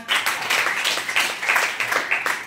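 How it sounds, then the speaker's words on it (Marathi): A room full of people clapping together, dense and steady applause for a couple of seconds at close range. "हां पुन्हा एकदा टाळ्या स्वागत करा।"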